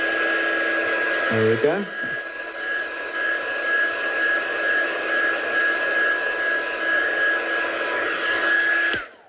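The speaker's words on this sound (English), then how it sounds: "I'm going to give that a quick blast with a heat gun just to make sure it's not wet." A heat gun blows steadily for about seven seconds, drying an inky paper craft background to keep it from cockling, with a brief voice just before it and a sharp cutoff at the end.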